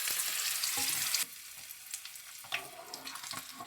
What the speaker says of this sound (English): Be careful when you are frying green chilies.